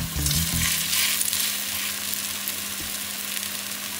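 German potato pancakes (Kartoffelpuffer) frying in oil in a pan: a steady hissing sizzle, close up, with a brief scraping stir at the start and no talking.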